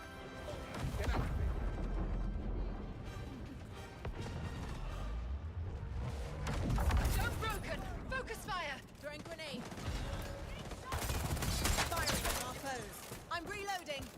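Dense gunfire in a shooter video game, with repeated sharp shots, bursts and impact crashes across the whole clip, mixed with game voice callouts and a talking voice.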